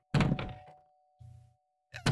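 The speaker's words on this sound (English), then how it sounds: "There's like a bell noise. Sounds like a doorbell." A free Steam video game gives off pinball-style bell and thunk noises: a loud burst, then a short low tone, then another sharp hit, heard alone with no voices.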